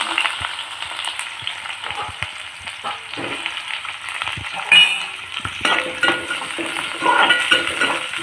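Onions frying in hot oil for Hyderabadi chicken biryani, a dense, steady sizzle with stirring and utensil clinks throughout, close and loud, rising toward the end.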